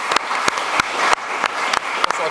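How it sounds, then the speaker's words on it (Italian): Audience applause at the presentation of a concert season at the Scuola Normale, a steady dense clapping from a seated crowd with a few sharper individual claps standing out, fairly close and continuous throughout. "vi prego di ringraziare con me con un applauso"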